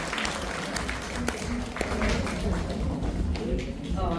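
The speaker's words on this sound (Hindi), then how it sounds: "बहुत जोरदार तालियों से स्वागत कीजिए अंजलि का" An audience at a community gathering applauds to welcome a guest speaker on dementia, steady clapping that continues throughout under a busy room.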